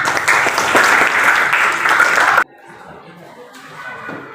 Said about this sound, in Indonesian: Berikan tepuk tangan kepada temannya.